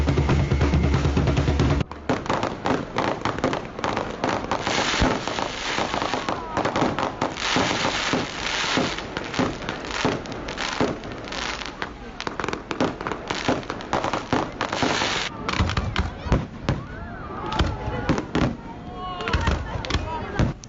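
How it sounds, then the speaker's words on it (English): Fireworks closing a sardine burial celebration on a beach, a long dense barrage of crackling bursts and sharp bangs rattling on continuously, loud and close, with crowd noise faintly underneath. "while we are waiting for the fireworks, which ends the traditional celebration"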